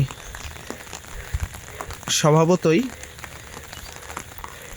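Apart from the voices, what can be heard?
monsoon rain falling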